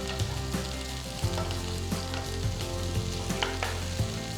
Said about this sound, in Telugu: మధ్యలోకి కట్ చేసుకున్న మూడు పచ్చిమిరపకాయలు వేసి వేయించుకోవాలి